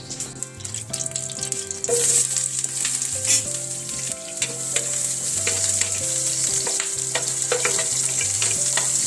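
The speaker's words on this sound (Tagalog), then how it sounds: "igisa na natin yung sibuyas, bawang at luya" Onion, garlic and ginger sautéing in a pan for chicken adobo with egg: a loud, continuous frying hiss that grows stronger after a few seconds, with intermittent utensil scrapes and background music.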